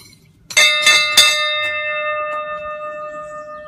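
A bright bell-like doorbell chime strikes three times in quick succession, then its tones ring out and slowly fade.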